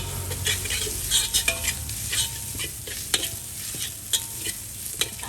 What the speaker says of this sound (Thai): ใส่ กระเทียมรากผักชีพริกไทยลงไปผัด ให้หอมค่ะ